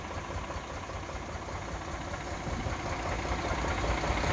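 A 2014-model, one-owner tractor engine idles steadily at a low, even level, a constant rumble with no voices over it.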